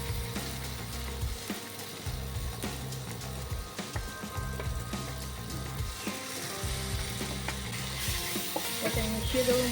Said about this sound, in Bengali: এবার আমি বেগুনটা দিয়ে দেবো